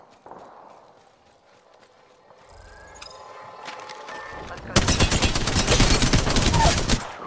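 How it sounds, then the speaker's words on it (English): A squad fight in a first-person shooter video game has a dense burst of rapid gunfire that comes in partway through and runs loud to the end, following a quieter stretch of game ambience and effects. "Opening fire on the enemy."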